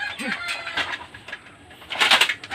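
Racing pigeons coo softly in a loft, low throaty calls close by, while people talk and other faint bird and fowl noises mix in.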